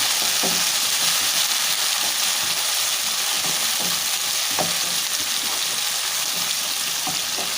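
Roughly chopped large tomato hits a hot pan and fries with a loud, continuous sizzle, with occasional stirring scrapes and clinks, close up and without talk.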